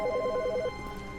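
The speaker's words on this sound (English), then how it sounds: "Phone's ringing." A desk telephone rings in The Stanley Parable video game, a quick repeating electronic trill of about seven pulses that stops partway through, then gives way to a quiet room tone.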